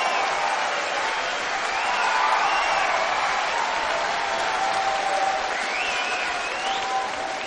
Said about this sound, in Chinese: 掌声送给华健哥